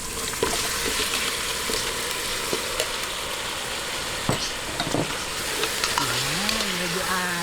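Chicken sizzles in a pan while arroz caldo is being cooked, a steady crackling hiss with occasional knocks from stirring, close and continuous, and a brief rising-and-falling tonal sound near the end.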